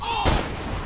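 A single sharp gunshot in the video game Borderlands 2, a short loud burst with a quick decay.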